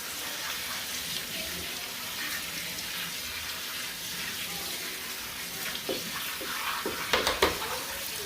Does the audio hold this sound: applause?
no